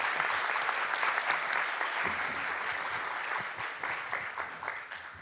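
Steady, dense applause from a seminar audience fills the whole stretch, gradually tapering slightly toward the end.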